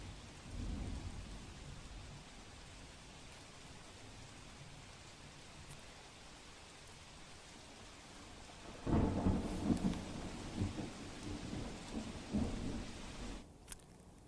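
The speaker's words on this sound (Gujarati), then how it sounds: "મેઘરાજા મહેરબાન છે અને ખૂબ વરસાદ થઈ રહ્યો છે" Heavy monsoon rain pours across Banaskantha in north Gujarat as a steady hiss, with a deep rolling thunderclap breaking in partway through and rumbling on before fading, no voices present.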